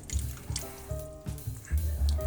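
Leftover beef stock being poured into a cooking pot for Pakistani beef paya, heard as close, splashing liquid that comes in several uneven gushes, with no talk.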